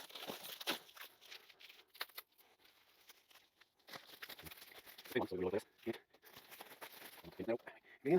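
Foil wrapping crinkles and tears in short, quiet bursts as a chrome-finished AEW Performance exhaust part for a Royal Enfield Super Meteor 650 is unwrapped, with someone speaking intermittently between the rustles.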